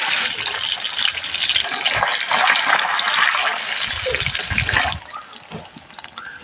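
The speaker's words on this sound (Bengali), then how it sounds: "তেলটা গরম হয়ে গেছে এবারে পনিরগুলো দিয়ে দেবো ভালোভাবে পনিরগুলোকে ভেজে নিতে হবে" Pieces of paneer drop into hot oil and sizzle loudly, a dense bright crackle that swells and holds, then eases off near the end. Nobody speaks.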